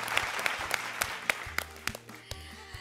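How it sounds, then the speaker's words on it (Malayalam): A circus show audience gives a big round of applause for salsa dancers taking the stage, with sharp bursts of clapping over music playing underneath. "എല്ലാവരും ചേർന്ന് ഒരു വലിയ കൈയടി."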